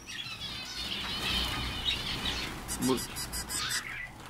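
Indian bulbuls and their chicks in a breeding nest give high, thin chirps and tweets, with rustling close by and a brief human voice.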